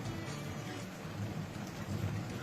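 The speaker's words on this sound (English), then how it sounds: "there's a very big thunderstorm over Cheltenham right now." Heavy rain during a big afternoon thunderstorm over Cheltenham, a dense continuous hiss of falling water with low rumbling underneath, steady and fairly loud with no voices.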